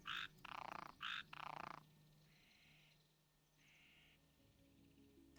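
Croaking frog sound effect from an elf-zone role-play video game: four loud rhythmic croaks in quick succession, followed by quieter tonal game sounds over a low background.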